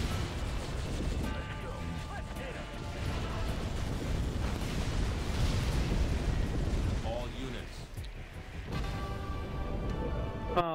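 Units blown up in the Halo Wars strategy game, a dense rumble of explosions and battle noise that stays loud throughout, with a few chiming interface tones near the end.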